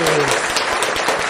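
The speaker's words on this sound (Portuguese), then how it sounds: "Uma salva grande de palmas pra esse pra casal." A big round of applause for a couple, dense and loud crowd clapping throughout the brief moment, with a voice heard at the very start.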